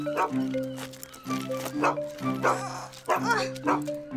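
A cartoon dog from Fireman Sam barks in a run of sharp yips and woofs, several times in quick succession, over a sustained musical tone backing.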